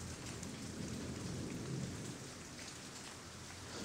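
A thunderstorm over a hunting lodge brings steady rain hiss with a low rumble of thunder swelling and fading in the background, faint and distant, with no talking.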